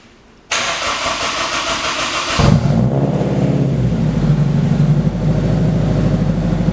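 A Honda car engine cranks briefly, then catches and settles into a steady, loud idle, recorded close by with no voices.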